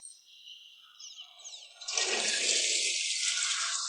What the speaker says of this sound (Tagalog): may umagos na tubig dito